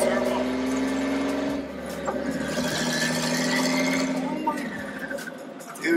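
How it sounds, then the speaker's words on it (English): Big turbo on an RB engine in a Nissan 240SX, loud whistling spool rising and falling over steady engine drone as the car pulls away, with voices talking over it. "Dude, you can hear the fucking turbo."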